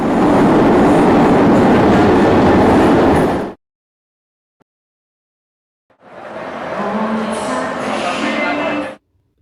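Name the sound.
tram passing on city rails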